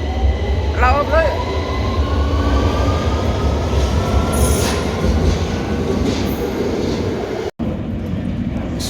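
Trains at London Victoria station rumble steadily through the platform area, with a drawn-out wheel squeal and faint clatter over a continuous loud roar, while people talk nearby.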